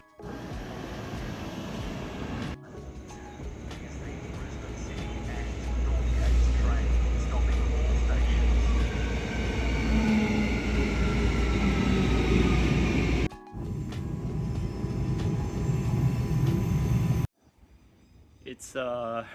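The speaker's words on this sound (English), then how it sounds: "I'm at a station waiting to catch a train to head in." Train station ambience on a Friday while waiting for a train, with a steady low rumble of passing rail traffic and distant mechanical hum, broken by brief cuts; people talk throughout.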